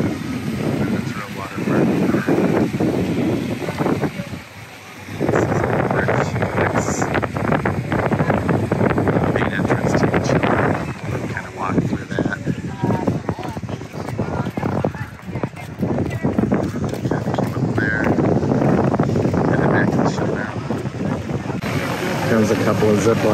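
Gusty wind buffets the microphone with a heavy low rumble throughout on a Caribbean island beach stop, Coco Cay, and a voice is heard talking under it at times.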